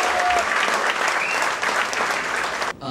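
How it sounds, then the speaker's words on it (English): Audience at a mixology and flair bartending camp giving a big round of applause, dense continuous clapping close and loud for nearly three seconds before cutting off abruptly. "a huge, huge thundering round of applause for Pankaj, Kamble."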